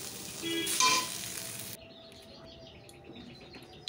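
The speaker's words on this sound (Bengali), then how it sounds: "এটা আমি আরেকবার ভালোভাবে একটু গরম করে নিচ্ছি" Leafy greens reheat in a pan with a soft sizzle, louder in the first couple of seconds and then quieter, while faint bird chirps come from the background.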